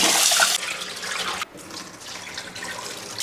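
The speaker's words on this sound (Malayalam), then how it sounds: "ഈ ബിരിയാണി അരി നമുക്കൊരു 3-4 പ്രാവശ്യം എങ്കിലും നല്ലപോലെ ഒന്ന് കഴുകിയിട്ട് വെള്ളം ഒഴിച്ച് വെക്കണം" Biryani rice is washed under running water, starting with a loud, rushing splash that drops to a quieter, steady trickle and sloshing, with no talking.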